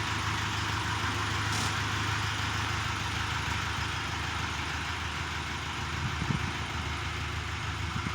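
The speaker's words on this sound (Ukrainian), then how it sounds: "тракторець преміум класа на 40 кінських сил" A small 40-horsepower Dongfeng tractor engine idles steadily, its low, even chugging rumble holding at a constant level throughout with no voices.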